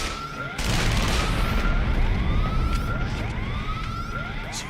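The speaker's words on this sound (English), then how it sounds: "Someone turn off this damn siren." A video game siren wails, sweeping up and down repeatedly over loud background noise, with a few sharp bangs like gunfire mixed in.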